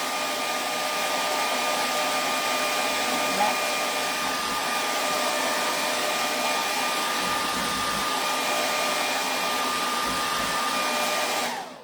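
Hair dryer blowing steadily on a wet paint spot on a rustic wooden Uncle Sam porch hanger, a loud, constant whirring drone that cuts off at the very end.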